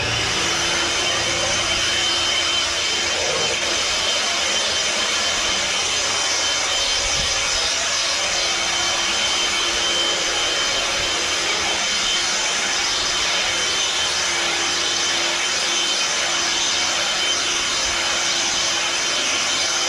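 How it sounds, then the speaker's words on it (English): A small handheld blower roars steadily and loudly for the whole stretch, blowing loose dust out of a trailer with no talking. "I'm just going to blow it out with my little blower"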